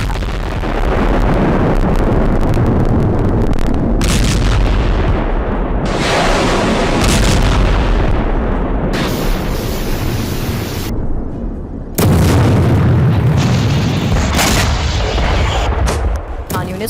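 Israeli tanks destroying buildings in Khan Younis set off heavy, continuous booming explosions and roaring blasts, with loud crackling bursts and sudden cuts between shots.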